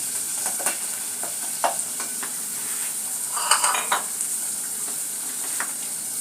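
Cold minced meat for spaghetti pasta is broken apart and stirred in a hot pan, with a steady close sizzle and intermittent scraping scuffs of the utensil against the pan.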